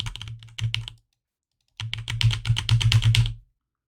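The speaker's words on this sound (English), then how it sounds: "Can I type here?" Brisk typing on a computer keyboard in two bursts of rapid keystrokes separated by a short silence, close and clear with no talking.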